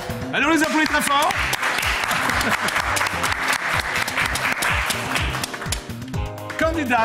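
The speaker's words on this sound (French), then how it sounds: "Allez, on les applaudit très fort." Studio audience of a French TV talent show claps enthusiastically, with steady, crisp applause continuing while a host and others talk over it at the start and end.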